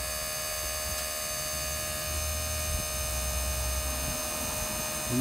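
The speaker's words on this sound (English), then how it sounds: "So you'll hear this kick on, it's the pump pumping air" A LEED Brakes Black Bandit electric vacuum pump runs and pumps air with a steady low mechanical hum and whine, constant and fairly faint, with no one talking.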